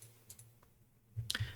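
Mouse clicks adjusting grid cell size in LiDAR point-cloud software: a couple of faint, sharp clicks near the start and a closer pair at the end, over quiet room hiss.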